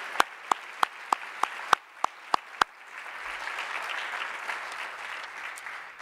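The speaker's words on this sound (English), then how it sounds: "join me in giving her a round of applause" About nine sharp, evenly spaced claps from one person, then a broader wash of crowd applause that swells and continues.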